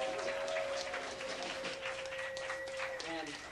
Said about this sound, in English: Mr. John Southworth, everyone, give him a round of applause.